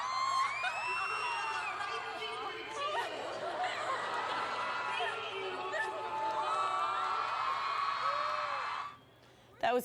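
A concert crowd cheers and whoops steadily at a show as a five-year-old boy's proposal is accepted. The sustained roar ends abruptly near the end.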